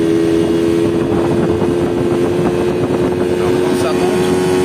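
Yamaha Chappy LB50 moped engine revving up under throttle, a loud steady drone with a strong constant tone, wind buffeting throughout and a voice talking over it.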